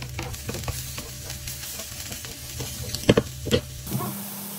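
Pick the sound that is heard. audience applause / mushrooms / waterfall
mushrooms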